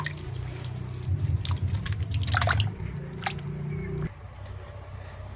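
Mixed multani mitti mud being strained, a wet squishing and dripping with liquid trickling through, louder in the middle before thinning to soft drips.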